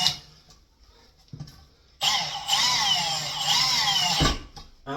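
A power drill drives toilet seat fixings in a bathroom, whirring loudly and steadily for about two seconds after some quiet handling sounds. A brief cough comes just before the burst.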